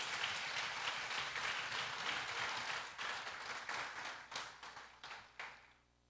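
A church congregation gives a strong round of applause for Jesus, full and steady at first, then thinning into scattered claps before fading out.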